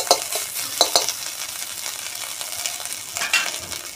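Ginger paste frying in a wok, a steady bright sizzle with a few scraping stirs near the start and again toward the end.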